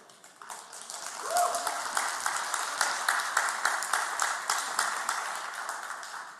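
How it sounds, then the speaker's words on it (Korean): A church congregation applauds during an Advent service, a sustained wash of many hands clapping at steady strength for several seconds in a reverberant hall, with some voices mixed in. "분명히 박수 쳤습니다."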